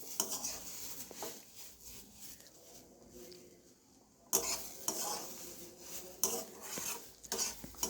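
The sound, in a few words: stirring food in a pan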